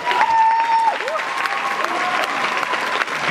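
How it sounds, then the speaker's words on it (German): Audience applause at a carnival guard dance meeting, steady dense clapping from a large crowd with a faint voice briefly over it. "Euer Applaus, meine Damen."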